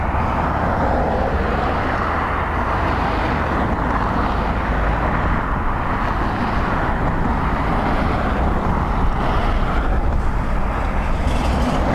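An Aer Lingus airliner from Brussels arrives at Dublin Airport on a windy day, its loud, steady roar mixed with gusty wind buffeting the microphone throughout.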